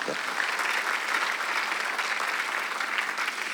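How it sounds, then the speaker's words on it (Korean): A church congregation claps during a Sunday worship service, producing dense, sustained applause of many hands that holds at an even level from start to finish. "하나님 보좌 우편에 앉아 계신 걸 믿는 사람만 박수 영광 돌리시기 바랍니다"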